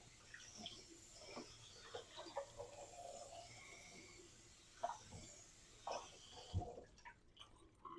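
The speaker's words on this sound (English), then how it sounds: "that's another purpose of running cold water on it, to cool it down quickly" Cold tap water runs steadily over cooked asparagus spears in a kitchen sink, a continuous splashing flow with a few louder spatters before it cuts off near the end.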